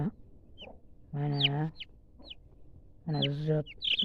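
Chickens cluck close by in short repeated bursts with a brief squawk in each, and small chick peeps can be heard between them.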